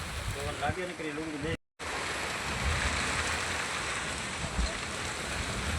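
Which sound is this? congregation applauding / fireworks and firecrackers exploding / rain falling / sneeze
rain falling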